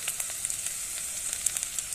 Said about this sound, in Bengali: রসুন পেঁয়াজটা ভাজা হয়ে গেছে